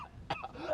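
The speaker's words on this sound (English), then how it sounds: "I actually recorded you coughing yesterday." A man's cough recorded during a radio show break and played back on air, one sharp burst with a slight echo, followed by faint throat sounds.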